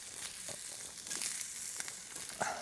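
A bone sizzling in a hot pot while cooking sup-kharcho soup, a steady crackling fry with small pops, fairly quiet and with no talking.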